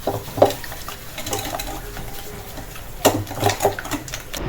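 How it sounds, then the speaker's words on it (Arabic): Sugar and eggs are mixed together in a bowl for a lemon cake, with scraping and tapping strokes of a utensil against the bowl coming in short bursts, close and fairly loud, without speech. "غادي نخلط المكونات مع بعضياتهم حتى تذوب لينا السنيده مع البيض"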